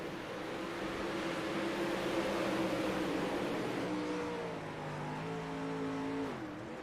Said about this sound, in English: Green flag here is out for the 360 sprint cars.